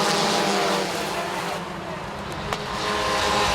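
Race cars at a Farmers Insurance 250 speedway event roar past, their engines whining loudly and then easing as they move off, under a race announcer's commentary.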